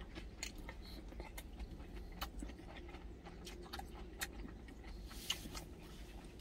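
Crunchy bites and chewing of fresh napa cabbage geotjeori kimchi, a series of crisp, close crunches in a steady rhythm with no talking over them.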